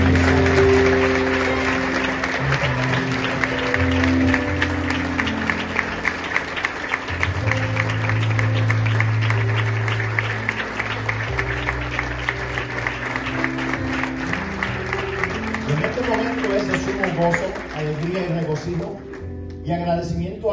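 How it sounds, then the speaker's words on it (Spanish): A church congregation applauds loudly at a pastoral installation service, clapping running throughout beneath sustained music and a speaking voice. "Recibimos con un fuerte aplauso."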